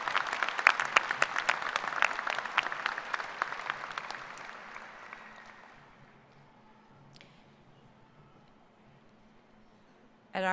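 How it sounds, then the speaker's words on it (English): A graduation ceremony audience applauds a group of doctoral candidates in a large hall, with loud, dense clapping that gradually thins and fades into near silence before a sudden noise at the very end. "Would you please join me in giving this group of individuals a round of applause?"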